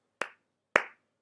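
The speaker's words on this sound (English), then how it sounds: "You got to give a clap." Two single hand claps, close and crisp, spaced about half a second apart in an otherwise silent room.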